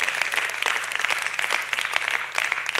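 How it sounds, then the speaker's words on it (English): A church congregation claps together in steady, dense applause that carries on without a break, loud and close, with no talking over it. "So I'll clap, I'll shout, I'll honor you, I'll express."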